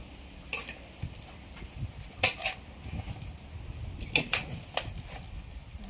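A spoon mixing mango pickle in a bowl, irregular clinks and scraping taps of metal against the dish with soft squelching between them, close and moderately quiet.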